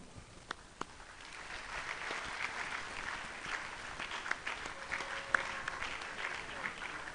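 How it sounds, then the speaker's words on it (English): Scattered clapping from an audience at a medical college induction ceremony for surgeons rises into steady, moderately distant applause that runs for several seconds, with sharper individual claps standing out and faint talk underneath. "Members, I want you to clap for them."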